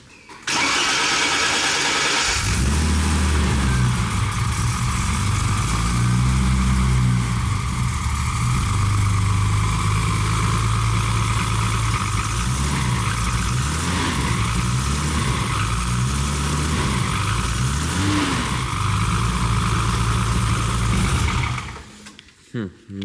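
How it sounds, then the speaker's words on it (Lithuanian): A BMW M20 stroker engine idles steadily after a cold start, a continuous mid-pitched hum with a faint rhythmic whine that runs until it cuts off near the end. "tai dar biškį pašildysim variklį"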